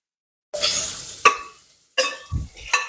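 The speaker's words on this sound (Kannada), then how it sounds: "So fry till all the water goes away." Prawns frying in a pan at home, giving bursts of hissing sizzle with stirring clatter, close and fairly loud, in short spurts separated by brief pauses.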